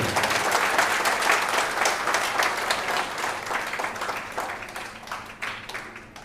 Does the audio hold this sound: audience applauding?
yes